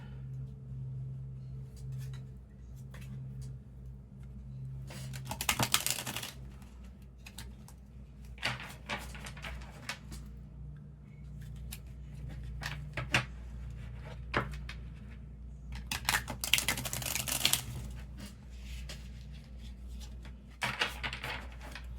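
Soft, intermittent riffling and tapping as an oracle card deck is shuffled nearby, in short bursts with quiet gaps, plus a low steady hum underneath.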